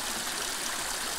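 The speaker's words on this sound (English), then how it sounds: "why there's so little water below here, why it's just a trickle" Creek water trickling through a canyon below an irrigation diversion, a steady, close rush of flowing water that fills the short clip without a break.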